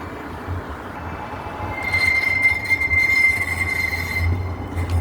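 Tram passing in Birmingham, a loud rolling rumble building as it nears, with a sustained high metallic wheel squeal joining halfway and holding to the end.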